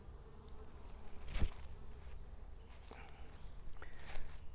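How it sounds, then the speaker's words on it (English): Honey bees buzz faintly and steadily around hives outdoors at a farm on a hot day, a soft continuous drone with occasional nearer passes. "they're busy little fellas, the bees"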